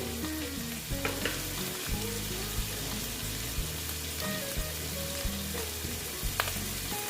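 Turmeric and chili powder frying in a pan for mung bean kalia, loud steady sizzling with repeated scraping stirs and small clinks recurring every second or so.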